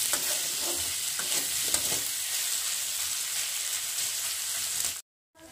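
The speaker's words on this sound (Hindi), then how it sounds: "टमाटर प्याज के साथ अच्छी तरीके से फ्राई हो चुका है" Tomatoes and onion frying with salt in a pan, a dense, continuous hiss of sizzling heard up close with light stirring scrapes, cutting off abruptly near the end.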